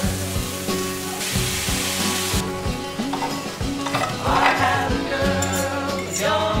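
Two eggs are scrambled in a pan with sautéed garlic, onion and vegetables, giving a close steady sizzle under repeated scraping and stirring strokes of a utensil against the pan, without speech.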